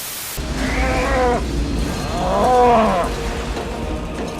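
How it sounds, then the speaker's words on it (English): Two drawn-out, low mooing calls from a cow, each a couple of seconds long with a short pause between them, fairly close and unaccompanied by talk. "We got cows."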